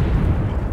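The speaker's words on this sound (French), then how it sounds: "C'est nos roquettes à nous." Friendly rockets detonating in a military video game, a rumbling low boom with rolling, rough blasts filling the brief moment, no talk over it.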